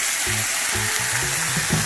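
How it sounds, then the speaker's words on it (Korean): Ramen noodles, briefly boiled, stir-fried in a pan with starchy noodle water over scallion oil and minced garlic, giving a short, steady hiss with low tonal notes underneath. "면은 살짝 익히고 면수와 함께 팬에 넣어 볶아주세요"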